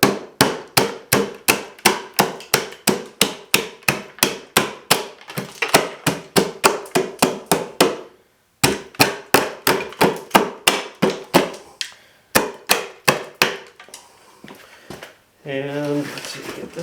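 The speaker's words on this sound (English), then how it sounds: "And the framing hammer, you just use the claws to knock these." The claws of a framing hammer knock against wooden pieces of a curved beam in quick, regular, sharp strikes, with a couple of short pauses, followed by a brief spoken voice at the end.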